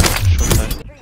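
A Longbow sniper rifle fires in Modern Warfare 3, giving a loud, sharp crack with a booming low-end tail that dies away quickly as the clip ends.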